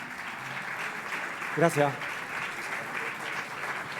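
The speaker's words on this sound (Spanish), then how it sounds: "Un fuerte aplauso para él." Audience applause at an EdTech conference presentation: steady, even clapping fills the room throughout, with a brief spoken word from a presenter in the middle.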